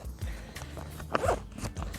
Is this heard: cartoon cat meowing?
no